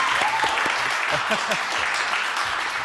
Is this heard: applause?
yes